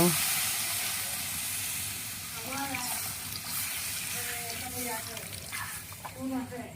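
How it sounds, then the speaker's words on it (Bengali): Water poured into a very hot kadai cooking tengra fish with potatoes sets off a loud, steady sizzling hiss that continues throughout while someone talks over it. "এই যে পানি আমরা দিয়ে দেবো পরিমাণ মতো।"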